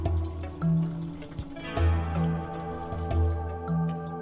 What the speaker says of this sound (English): Correctly measure the required quantity of cleaning agent and pour it into the clean water tank.